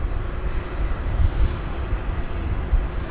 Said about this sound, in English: This is the British Airways Speedbird A380 headed back to London